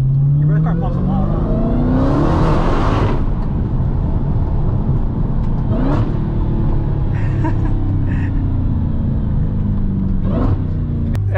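A red Dodge SRT Redeye Widebody engine, heard from inside the car, revving and surging with a rising whine, a loud burst of pops and crackles, then a steady rumbling drone with occasional sharp pops.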